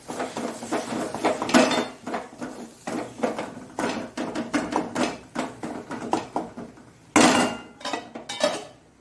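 A metal tawa griddle pan set on a gas stove in a home kitchen for dosa, with a series of close, irregular metallic clanks and knocks of cookware handled on the burner.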